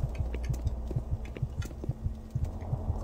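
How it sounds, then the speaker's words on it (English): Heartbeat sound in the video game Doom 3: a steady, muffled thumping pulse in regular pairs, close and moderately loud over a low hum, with no talk. "That is heartbeat sound."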